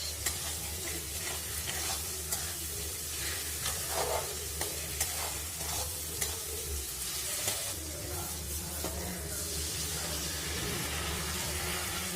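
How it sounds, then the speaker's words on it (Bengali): Hot water added to a sizzling pan of Bengali katla fish curry gives a continuous loud hiss and bubbling sizzle, with faint stirring scrapes and no voices. "তো এখন আমি এতে গরম জল অ্যাড করে নেব।"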